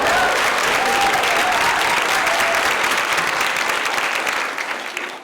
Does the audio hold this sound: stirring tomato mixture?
no